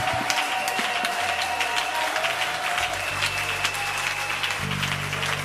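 Church congregation applauding in worship, a steady, loud wash of clapping that continues throughout, with a low sustained tone from instruments or a sound system underneath.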